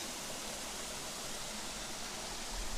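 Salmon Creek Falls roars as a steady, broadband rush of falling water, loud and continuous with no voices, like dense white noise filling the whole scene.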